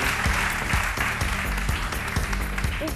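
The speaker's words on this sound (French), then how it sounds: "Son nom, c'est Guiro Yannick, que je vous demande d'applaudir." Studio audience on a French midday TV talk show claps warmly for an arriving guest, dense steady applause with a few louder individual claps standing out, close and continuous throughout.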